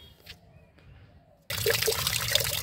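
Water poured and mixed into a fertilizer mixture for plants, quiet at first, then a sudden loud splashing, sloshing rush for the last second, close and alone.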